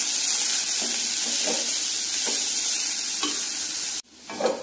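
Mashed potato mixed with red chilli powder, salt, amchur and chaat masala is stirred with a utensil, giving soft repeated scraping strokes over a steady background hiss, then a brief clatter near the end.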